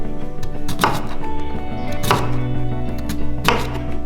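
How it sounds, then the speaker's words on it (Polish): Knife cutting a white radish into slices on a board, three sharp chopping strokes spaced about a second apart over a steady background hum, close and clear. "Kolejnym etapem będzie krojenie rzodkwi, czyli tej białej rzodkiewki. Proponuję pokroić ją w plasterki."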